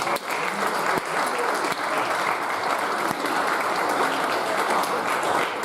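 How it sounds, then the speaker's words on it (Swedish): Sustained, loud applause from an audience at a charismatic Christian meeting in London as James Talbot is introduced; dense, even clapping continues throughout with a few sharper individual claps standing out. "En stor applåd för James, tycker jag."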